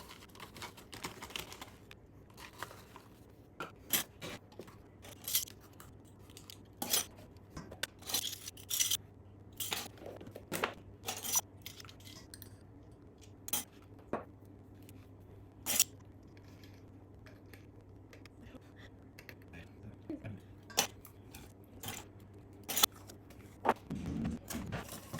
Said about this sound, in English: Then we're going to combine all the dry ingredients into a bowl.